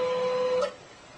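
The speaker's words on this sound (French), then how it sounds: "Non, maudite imprimante qui marche pas encore." Jammed printer runs with a close mechanical whir and a steady tone for about half a second more, then cuts off, leaving only a quiet room hum.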